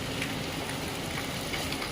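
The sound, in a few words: heavy rain falling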